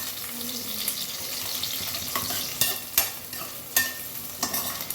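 Green chillies and onions fry in a pan for Tamil Nadu style katte pongal: a steady close sizzle broken by several sharp clicks of a spoon stirring against the pan, with no voices.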